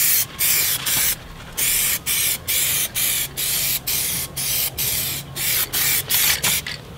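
An aerosol can sprays a black first coat of paint onto a car in a cheap DIY modification, a loud, close hiss in about a dozen regular bursts, each short pause between them clearly audible.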